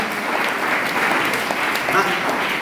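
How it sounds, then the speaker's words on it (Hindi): Steady, fairly loud applause from an audience at a Hindi Divas event, a continuous clapping wash lasting the whole short stretch. "तो एक बार जोरदार तालियां"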